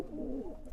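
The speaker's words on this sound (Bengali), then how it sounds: "35 কবুতর আছে, বিভিন্ন প্রজাতির কবুতর এখানে রয়েছে।" Pigeons of various breeds, including old high-flying birds kept for sale, give a close, low, throaty coo that rises and falls through a short moment, clear and alone.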